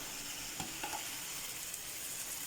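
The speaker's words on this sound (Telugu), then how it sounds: "ఇలా ఉడుకుతూ ఉంది కూర" Ridge gourd curry simmers in a pan with a soft, steady sizzle and faint bubbling. A couple of small pops rise over the quiet, even hiss.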